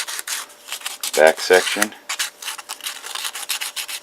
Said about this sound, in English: you can really get a little more involved in your sanding and prep